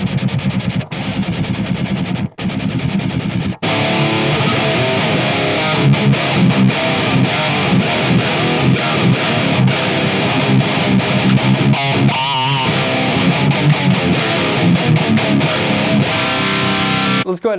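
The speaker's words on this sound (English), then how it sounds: "We'll go with the Hugin distortion." Electric guitar through the Hugin distortion on a budget multi-effects unit, loud saturated chugging riffs with rapid palm-muted bursts and brief stops, playing continuously.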